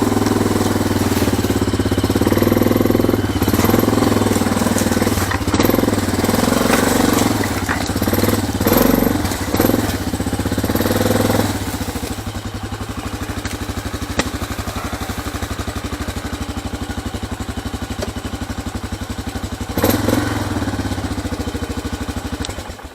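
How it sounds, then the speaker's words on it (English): A Big Bear 400 ATV engine runs steadily nearby, loud and rough-edged at first, with clattering surges over the opening stretch before settling into an even mechanical drone. "My little old Big Bear 400 here, this is the work vehicle."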